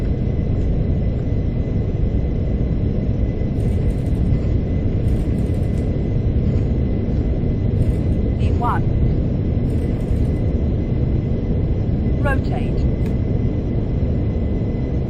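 Airliner engines spooling to takeoff thrust in a flight simulator, a loud continuous low rumble and roar with steady broadband noise, joined by a few brief faint clicks and tones.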